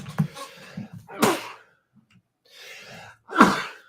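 A man sneezes after hitting a vape too hard, two sharp, close bursts with breathy gasps between them, in a quiet room during a podcast conversation.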